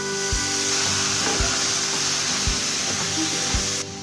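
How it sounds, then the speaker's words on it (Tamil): Cauliflower fries in a pan for a pepper fry, giving a dense steady sizzle with faint bubbling. A few soft knocks of a spoon or the pan come at roughly one-second intervals. "இதை நல்லா ஃப்ரை பண்ணிக்கலாம்."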